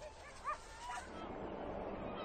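Inuit sled dogs bark and yip in a couple of short bursts, faint and somewhat distant over a low, steady background noise.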